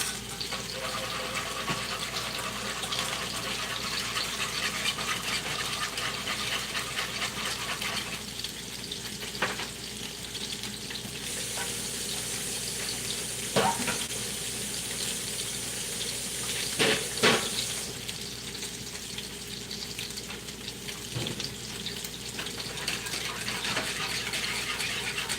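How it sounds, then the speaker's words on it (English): Teriyaki sauce thickened with a cornstarch slurry bubbles and sizzles in a pan while being whisked, a steady close hiss with occasional scraping clinks of the whisk against the pan. "I'm whisking it because I don't want my sauce to clump up."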